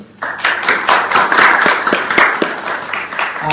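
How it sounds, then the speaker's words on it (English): Applause from a conference audience for a keynote presenter, a burst of brisk clapping that swells quickly and holds steady, fairly close and loud, with no one talking over it. "Can we give a big applause to the presenter?"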